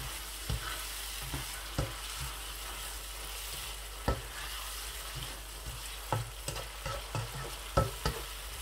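Green chillies frying in onion masala for a bhindi dish, a constant sizzle punctuated by repeated sharp scraping clicks of stirring against the pan.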